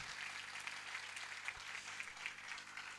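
A church congregation at a sermon gives applause, heard as a faint, distant hiss of many hands clapping with a few sharper claps, low in level and fairly steady throughout.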